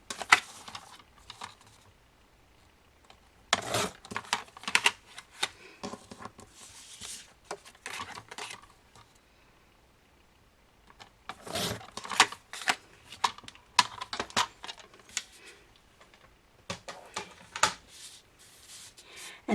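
Scissors snip through paper memory verse cards in bursts of crisp cutting and rustling, close and fairly quiet, with pauses of near silence between the runs of cuts.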